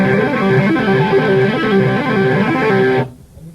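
Distorted electric guitar plays a fast, continuous stream of right-hand tapped arpeggios in an even, repeating pattern, loud and sustained before cutting off abruptly near the end.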